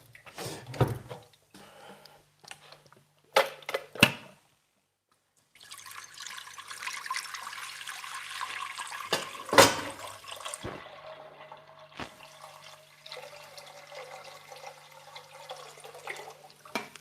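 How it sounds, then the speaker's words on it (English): Water from a kitchen tap pours into a big soup pot, starting with short bursts and stops, then a steady rushing fill that runs on with a few clunks, close and moderately quiet. "I'm gonna fill it with water."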